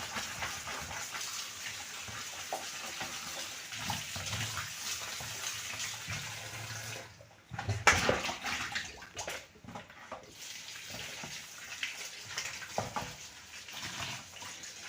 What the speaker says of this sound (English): You can wash it as much as you want, depending on how dirty it is.